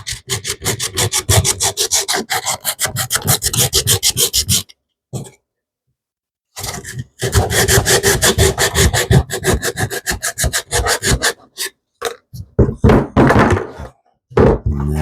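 Old glue is scraped off the sides of a wooden cigar mold with fast, rhythmic rasping strokes, loud and close, running in long bursts broken by short pauses, with no talk.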